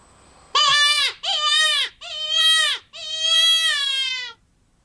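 Four drawn-out, pleading bleats blown on an open reed cow call to imitate a desperate coyote, each loud, nasal and wavering, separated by short pauses in a quiet setting.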